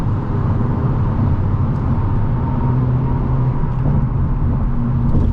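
Steady road and engine noise inside a 2025 Hyundai Elantra N with a dual-clutch transmission, low rumble holding loud and even throughout with no distinct thumps from individual bumps.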